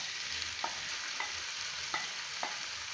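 Ginger garlic paste frying in a pan for chicken kachori, a steady bright sizzle with four evenly spaced spatula scrapes, close up and with no voices.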